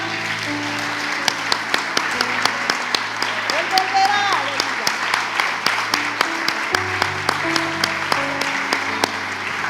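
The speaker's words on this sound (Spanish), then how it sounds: "Démosle un fuerte aplauso entonces al Señor, porque Él volverá." Rhythmic congregational clapping during a lively church worship service, regular sharp claps running throughout over sustained keyboard chords and singing or preaching voices.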